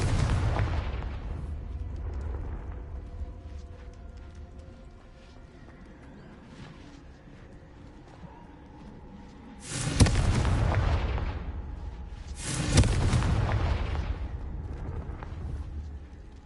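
Fire-spell explosions from the Hogwarts Legacy video game: two heavy, booming blasts erupt a few seconds apart, each rumbling off under steady game ambience, with a loud burst at the start.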